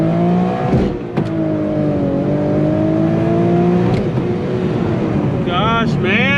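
A car accelerates hard on a highway, its engine note climbing and falling through gear changes, loud and close from inside the cabin, with a brief high whine near the end.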